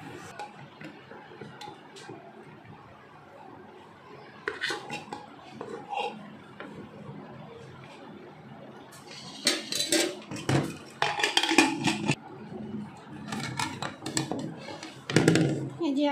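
Rice being mixed by hand on a plate with potato, soft clinks and taps of plate and utensils growing busier toward the end, under a voice talking nearby.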